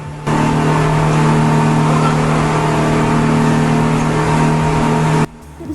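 A loud, steady speedboat engine roars continuously for about five seconds near Phi Phi Island, Thailand, holding an even drone before cutting off abruptly.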